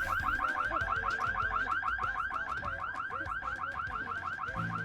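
Burglar alarm from The Sims 2 video game, a rapid repeating electronic warble that keeps going steadily and fairly loud, with faint low thumps beneath and no voices.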